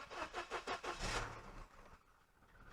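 SAAB project car with a repaired vacuum leak and fixed exhaust cranks with several rhythmic starter pulses, catches and briefly revs, then settles into a quieter idle, heard fairly faint with no talk.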